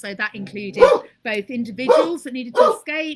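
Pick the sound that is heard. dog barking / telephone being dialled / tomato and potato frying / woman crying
dog barking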